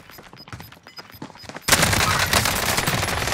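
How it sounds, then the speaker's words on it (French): Gunfire in Modern Warfare on Rebirth Island: scattered distant shots crackle at first, then a sudden loud burst of sustained automatic fire fills the rest of the moment, close and dense. "Il y a encore le sniper qui tire dessus"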